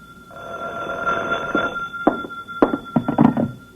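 An old-time radio drama telephone rings in a steady bell tone for several seconds, with a few clunks of the handset being lifted toward the end.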